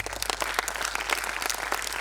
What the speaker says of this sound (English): a big round of applause for our authors